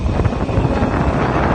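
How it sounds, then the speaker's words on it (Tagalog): Cool wind blowing outdoors near a hillside cemetery, a continuous rushing buffet against the microphone, loud and close, with no voices. "Malamig-lamig ang hangin"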